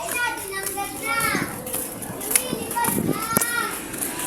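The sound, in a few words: children playing outdoors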